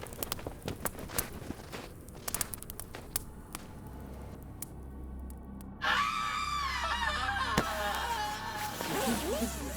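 In a horror audio drama, a scream rings out at night. Scattered footsteps and crackling come first, then a sustained, wavering, high-pitched scream rises loud and near.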